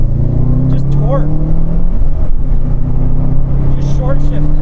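A 2005 Subaru Legacy GT with a manual gearbox accelerating and short shifting on a regular street, a loud, close, steady engine drone with brief pitch changes at the shifts, while people talk over it inside the car.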